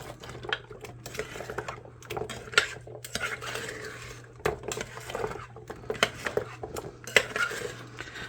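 A big spoon stirs meatballs in a crockpot, producing close, irregular clinks and scrapes against the pot with soft squishy sounds and a faint steady hum underneath.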